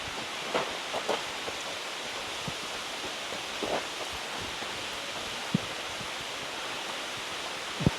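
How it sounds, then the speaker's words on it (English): Heavy pouring rain falls steadily, a dense, even hiss outdoors near Stumphouse Tunnel and Issaqueena Falls in Walhalla, South Carolina, with scattered nearby taps and rustles over the constant wash. "It's pouring rain."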